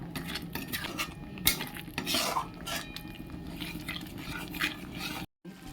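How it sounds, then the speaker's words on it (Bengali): A utensil stirs soybean curry gravy masala in a pan, making steady scraping and clinking strokes against the metal, close and moderately loud, with no talking. "হালকা হাতে সুন্দরভাবে গ্রেভির মশলাটাকে মিশিয়ে নিতে হবে"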